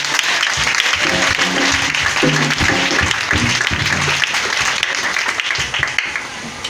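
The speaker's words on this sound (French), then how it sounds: "Est-ce que tu peux l'acclamer encore plus puissamment?" A church congregation at a New Year's Eve service cheers and applauds loudly and continuously, a dense wash of clapping with voices shouting underneath.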